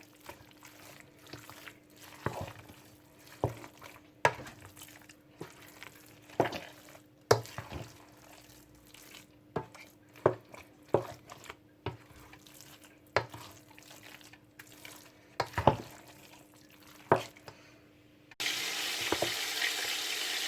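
Minced meat being worked by hand with a paste of ground garlic, ginger and green chili for kebabs. Close, wet squelching strokes come in an irregular rhythm, with no one talking.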